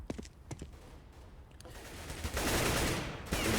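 Gunfire in Counter-Strike on the Overpass map during a competitive match: a few sharp shots early, then a dense, loud burst of rapid firing and clatter filling the latter half, with no talk.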